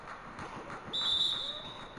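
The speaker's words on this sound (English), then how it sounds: "And there's the whistle." A referee's whistle in the NBA 2K19 basketball video game gives a single sharp, sustained shrill blast of about half a second, sounding over a steady background of game crowd noise.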